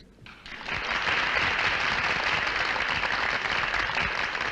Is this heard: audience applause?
yes